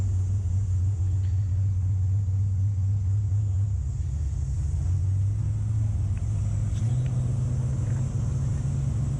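Hot rod cars idle and rumble together as they roll out at a classic car cruise event in Michigan, a deep, steady engine drone that shifts in pitch as vehicles move off, with no talking.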